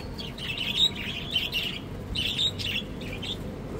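Bursts of high chirping and squawking from a pet parrot on a farm, repeated in two clusters over a steady low background hum, moderately close.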